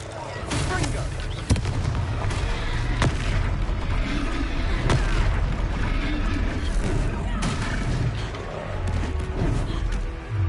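Confringo blast spell exploding in a Hogwarts video game battle, booming bursts and rumbling blasts over dense, continuous game noise, loud and close, with voices calling out amid the chaos.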